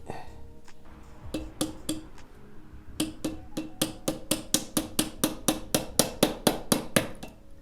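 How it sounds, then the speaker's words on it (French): A small thin flat screwdriver is struck with a mallet while working on a Chrysler Crossfire's 74 mm throttle butterfly, giving sharp, close taps that start sparse and then settle into a steady rapid series of evenly spaced strikes. "Donc un petit tournevis plat fin. Un maillet et pas un marteau"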